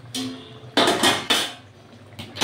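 Metal lid lifted off a thick cooking pot (kadai) holding ridge gourd and potato with poppy seed, giving a few sharp clanks and scrapes close by, then a quiet pause.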